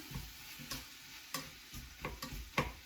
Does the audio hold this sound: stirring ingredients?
yes